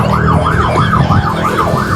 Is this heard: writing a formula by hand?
no